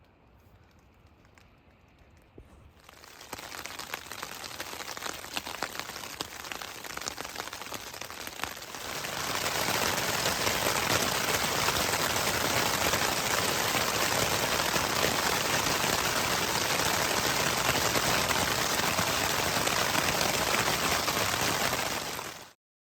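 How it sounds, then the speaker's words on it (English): Steady rain on the John Muir Trail patters and hisses, starting faint and building to a dense, loud downpour that continues without pause before cutting off. "It has started raining,"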